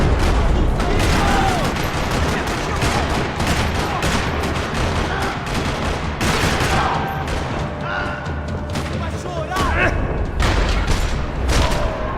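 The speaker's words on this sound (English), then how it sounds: "Another parking lot rattling with gunfire." Dense, sustained gunfire rattles through a parking lot in the Max Payne 3 video game, with rapid overlapping shots and booms filling the whole stretch and a voice briefly heard underneath.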